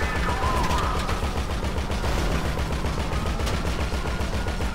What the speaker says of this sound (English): Quite cool, shooting all cops.